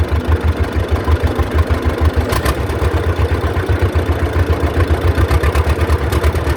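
A John Deere B tractor engine idles at a semi-low setting, a loud, steady two-cylinder chugging pulse that stays even throughout, close by with no talk.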